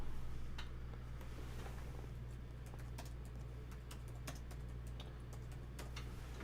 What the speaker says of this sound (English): We'll have to type him in again